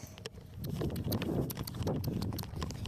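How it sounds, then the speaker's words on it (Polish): A horse canters over a cavaletti pole, its hooves thudding in quick, rolling three-beat clip-clop at close range, steady and loud over a rustling outdoor background with no talk. "Jedziemy sobie na kawaletkę, która miała być na kłos, ale jednak będzie na galop."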